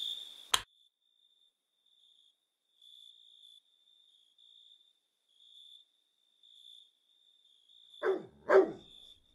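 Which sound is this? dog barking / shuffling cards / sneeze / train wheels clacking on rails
dog barking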